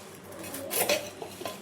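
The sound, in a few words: stirring peanuts, onion and salt in a pan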